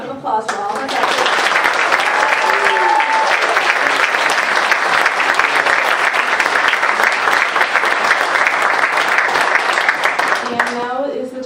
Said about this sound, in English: We could have a round of applause for all of our